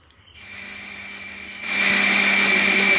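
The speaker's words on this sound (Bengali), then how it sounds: "পোস্ত নিয়েছি, আদা নিচ্ছি, কাঁচা লঙ্কা নিয়েছি, আর কাজুগুলো আমি পেস্ট করে নেব একসাথে" An electric kitchen grinder spins up and whirs steadily, turning poppy seeds, ginger, green chili and cashews into paste, growing louder and harsher after a brief quieter start.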